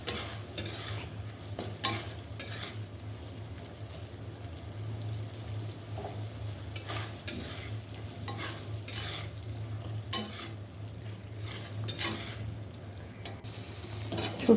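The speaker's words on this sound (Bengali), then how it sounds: "শুটকিটা বেশ অনেক সময় ধরে কষিয়ে নিয়েছি।" Dried loitta fish shutki sautéing in a pan, continuous close sizzle with rhythmic stirring and scraping strokes, moderately loud and steady.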